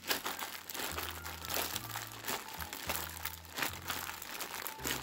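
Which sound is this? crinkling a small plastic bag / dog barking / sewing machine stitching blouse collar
crinkling a small plastic bag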